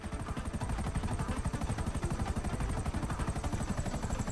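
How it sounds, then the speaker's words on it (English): Helicopter in the video game Grand Theft Auto V, a loud, steady rapid rotor chop with fast rhythmic blade thumps running throughout, close and alone without speech. "Now get that chopper. Helicopter. Okay, you've got the chopper."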